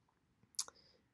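A single crisp mouse click sounds up close over near silence, followed by a quick, fainter second tick.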